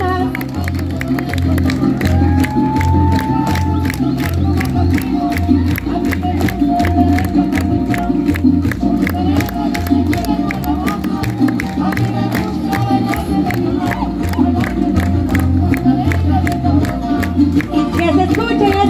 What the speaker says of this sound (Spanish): Que se escuchen esas palmas para estos muchachos